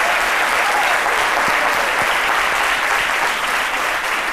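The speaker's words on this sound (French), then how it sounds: "je vais demander encore une fois d'applaudir" Studio audience applauding on a French daytime talk show, a dense, steady clapping that stays loud throughout with no voices over it.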